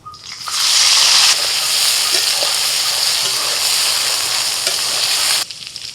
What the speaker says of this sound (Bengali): ওই তেলের মধ্যে এবার সয়াবিনটা ভেজে নিচ্ছি